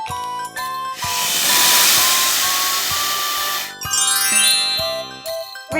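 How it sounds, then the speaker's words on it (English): A snake hissing in a long, loud, steady breathy hiss that runs for about three seconds, framed by a light jingling musical backing before and after. "Snake."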